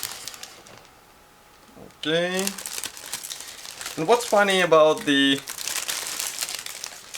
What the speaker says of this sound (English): now I'm removing this plastic part, so there will be a bit of noise